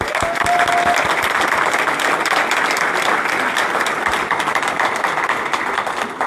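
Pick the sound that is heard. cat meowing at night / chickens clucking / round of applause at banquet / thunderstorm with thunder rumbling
round of applause at banquet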